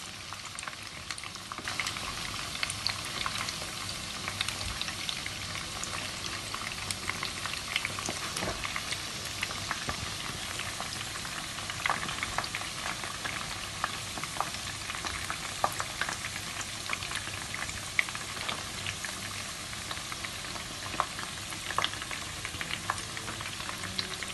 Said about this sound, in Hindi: ये चिकन हमारा फ्राई हो चुका है, तो अब हम इसे निकाल लेते हैं।